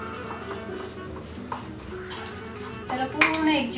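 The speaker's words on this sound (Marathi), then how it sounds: "आपण हा कैठाचा गर घेतला आहे आणि त्यामध्ये आपण गूळ घालूया, त्याला चांगलं स्मॅश करूया" Wood apple pulp mashed with jaggery in a metal bowl for kavathachi chutney, giving steady scraping and clinking of utensil against dish, with a louder burst of clattering near the end.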